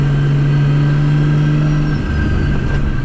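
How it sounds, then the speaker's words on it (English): A loud turbocharged 550 hp 2JZ car engine drones and revs steadily while accelerating at close range, a strong low rumble holding throughout with no voices. "The turbo is super loud. The JC sounds amazing like always."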